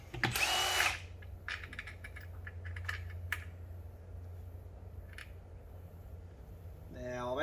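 A power drill spins out bolts from beadlock rims on a Nissan GQ utility, a loud close whir at the start followed by clicks, rattles and tool handling, with another short drill burst at the very end.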